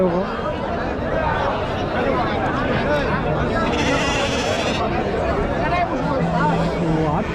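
Goats bleat repeatedly amid a busy crowd of chattering voices at a livestock market in Karimangalam, Dharmapuri district, the animal calls rising over constant outdoor hubbub.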